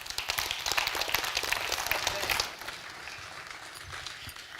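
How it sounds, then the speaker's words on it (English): Church audience applauding at a town hall gathering, dense close clapping for over two seconds that then thins to a softer, scattered patter. "Can we get another round of applause?"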